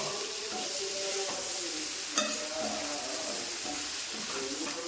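Brinjal and onion sautéing in a pan on high flame, a steady loud sizzle and crackle with faint stirring and scraping, close and continuous with no talk over it.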